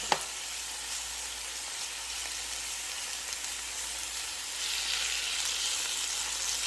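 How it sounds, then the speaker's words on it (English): Pork meat sears in a pan with a soft, steady sizzle that follows a sharp click at the start and swells a little louder partway through. "I love searing the meat first. Gives it more color."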